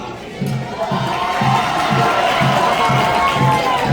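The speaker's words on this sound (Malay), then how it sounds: "rumah Aminuddin Baki bersorak" A school sports-day parade contingent from Aminuddin Baki house cheers loudly as a crowd, the shouts pulsing in a regular chanting rhythm for a few seconds.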